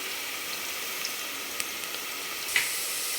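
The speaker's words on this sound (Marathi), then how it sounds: "तर हा कांदा छान परतून घेते." Chopped onion sautéing in a pan for a mutton curry, a steady soft sizzle of oil with a few faint clicks and a light stir toward the end, no voices.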